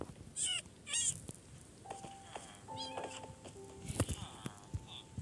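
Short high meows from a game cat repeat a few times, mixed with electronic beeps, chirps and soft clicks, fairly quiet overall.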